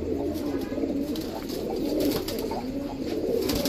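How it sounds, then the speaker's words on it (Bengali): A Tula pigeon cooing in soft, repeated low throaty coos, close and continuous, with faint bird chirps in the background. "এই হচ্ছে তুলা কবুতর"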